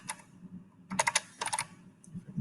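Rapid computer keyboard typing in short clustered bursts of keystrokes, close and clear, with brief pauses between bursts over a low background hum.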